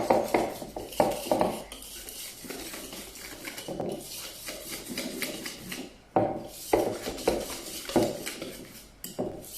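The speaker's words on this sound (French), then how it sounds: "Et on mélange les jaunes d'œufs et les farines." Egg yolks, sugar, flour and cornstarch are beaten together in a bowl for chocolate éclair cream, with rhythmic scraping and clinking of a utensil against the bowl, in close bursts separated by short pauses.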